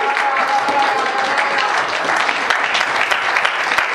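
A church congregation applauding the Lord during a service: dense, sustained clapping from many people, loud and continuous throughout.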